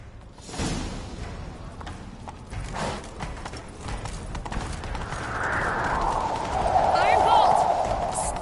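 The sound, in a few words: horse hooves galloping in video game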